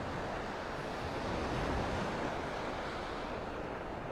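Steady surf washing onto a Gulf of Mexico beach in North Naples, Florida, a continuous broadband wash with light wind noise over the microphone, no voices.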